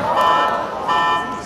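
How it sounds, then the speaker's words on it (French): A video-game alarm rings out loud and steady as a fake code is entered, a buzzing tone with bright harmonics that dips briefly and resumes, with a voice talking over it. "Oh, ça va sonner. L'alarme va sonner."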